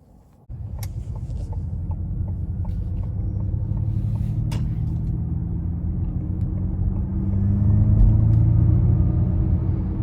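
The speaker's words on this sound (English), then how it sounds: "the car gives you kind of a rumble sound" A 2021 Ford Mustang Mach-E Premium electric car on the road: a steady low rumble of tyre and road noise starts abruptly and swells slightly louder near the end. It is heard from inside the cabin, with no talking.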